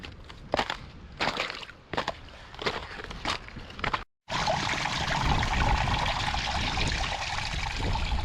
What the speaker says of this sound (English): It's another one of those little waterfalls.